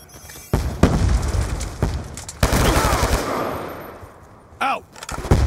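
Grenade explosions and gunfire in the video game Call of Duty: Black Ops 2, a team deathmatch round, with loud broadband blasts and bursts of shots through the clip, one booming hit midway and a short whooshing sweep near the end.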